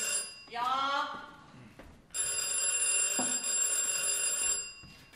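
A telephone rings in a Bavarian stage comedy, a steady bright electric bell trill that starts sharply and keeps going, with a brief voice calling out just before it.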